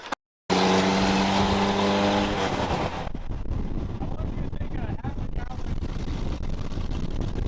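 A 1964 International Scout 80 drives along, its engine droning loud and near under heavy wind rush, the tone steady at first and then buried in rumbling road and wind noise.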